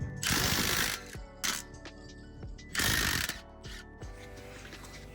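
A ratchet wrench cranks strut bolts off a steering knuckle on a Mitsubishi Evo X, fast clicking pawl bursts alternating with slower single clicks and pauses, close and clear with no talk.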